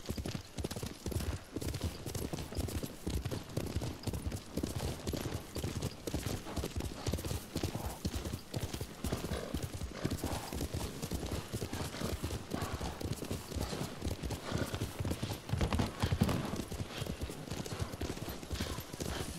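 Steady galloping horse hooves in Ghost of Tsushima, a dense, continuous clip-clop rhythm close up for the whole stretch, with a brief whinny-like swell near the end.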